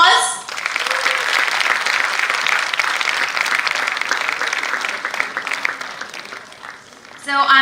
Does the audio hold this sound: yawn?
no